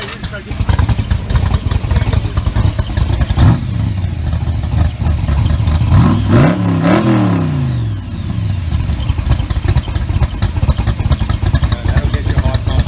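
Superformance 427 Shelby Cobra V8 engine starting and revving close by, a loud burbling idle with sharp rising and falling revs midway, while people talk over it.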